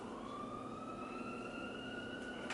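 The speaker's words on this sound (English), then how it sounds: "Every video, police sirens." A distant police siren wails in a steady rising tone, faint and continuous over low background noise, with no voices.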